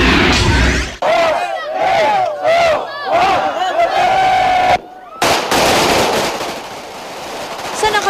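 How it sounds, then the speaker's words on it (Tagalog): Firecrackers at a noon New Year celebration in Barangay Pugo Grande, Dagupan City, set off in dense, loud crackling bursts over a roaring, cheering crowd, with a brief lull before another heavy barrage. "Sa nakabibiging ingay ng mga paputok"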